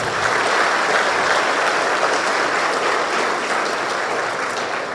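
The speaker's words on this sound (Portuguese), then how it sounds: "Vamos aplaudir Jesus." A church congregation applauds during a Christmas sermon, producing loud, continuous clapping from many hands that holds evenly for several seconds before easing slightly at the end, with no voices on top.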